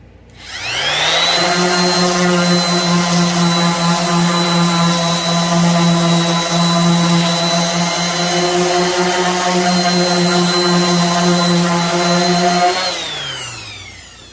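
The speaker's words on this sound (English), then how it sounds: "we're going to just sand that smooth" A power sander hums steadily and loudly as it smooths a dried patch of food-grade wood glue, spinning up at the start and winding down at the end.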